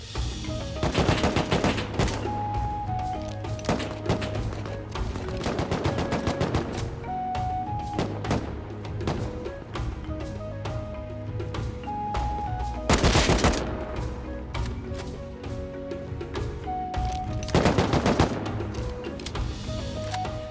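Automatic AK rifle fire from the survival video game Rust comes in repeated bursts of rapid, loud shots across the whole stretch, with a few short pauses between volleys.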